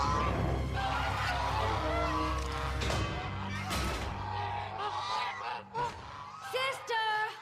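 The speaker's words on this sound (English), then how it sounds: "Another false alarm from Shining Armor's guard geese." Cartoon guard geese honk in loud, repeated nasal bursts over a cluttered bed of music and effects, with the calls growing sharper and more distinct toward the end.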